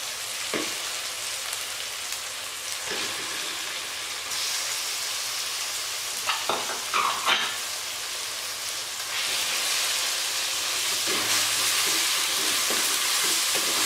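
Continuous crackling sizzle of chicken mince frying in a hot pan with tomatoes, with a few louder clatters of stirring midway and the hiss swelling near the end.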